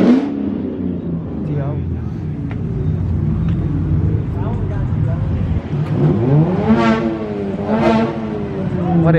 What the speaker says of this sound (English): What is that, a little Civic?